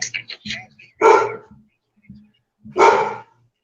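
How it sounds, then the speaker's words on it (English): A dog barks in two loud, separate bursts close to the microphone, with people chatting over a call around and between the barks. "I said the dog talking more than you."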